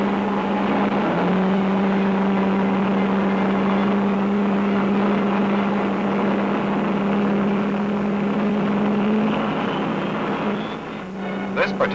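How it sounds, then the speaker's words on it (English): Propeller engines of a Douglas C-133 cargo aircraft at Dover Air Force Base, a loud continuous droning hum with a steady engine tone that holds before fading slightly near the end, as someone speaks over it. "This particular C-133 is getting ready for the aircraft's maiden transatlantic crossing from Dover Air Force Base."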